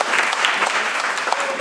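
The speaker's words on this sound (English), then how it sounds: "can we get an applause for him" An audience breaks into a short, dense burst of applause, a loud, even roar of many hands clapping together.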